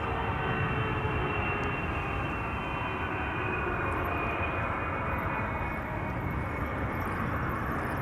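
A KLM Boeing 777 airliner passing at Schiphol Airport, a loud, steady jet engine roar that holds throughout with a broad rushing hiss, heard alone without talking.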